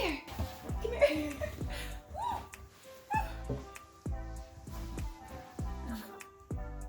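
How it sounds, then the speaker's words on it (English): A puppy whimpers and gives short yips in a series of close, soft cries, with a person's voice talking nearby. "That's my puppy, Twizzler."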